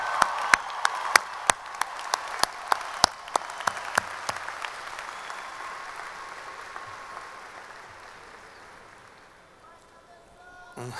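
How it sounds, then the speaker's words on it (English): An audience applauds the graduates' families at the Bergen Community College commencement ceremony in 2013, with sharp, close individual claps over a broad wash of crowd clapping that slowly fades out by the end. "please give a final round of applause for all the families of the class of"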